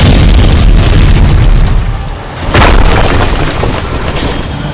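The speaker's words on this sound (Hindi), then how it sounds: "इतना बड़ा बम किसने फोड़ा यार?" A big bomb explosion in a playful real-life PUBG-style comedy skit: a loud, deep rumbling boom that fills the whole clip, dips briefly, then surges again with a second heavy blast and lingering roar.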